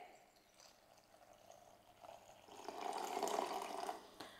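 Warm water poured from a vessel onto grated coconut in a kitchen pot, a soft splashing pour that swells louder toward the end over low background noise.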